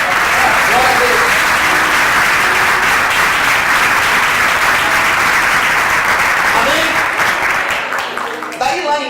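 A church congregation breaks into sustained, loud applause that fills the room, a dense wash of clapping that fades away near the end, with a voice audible over the clapping.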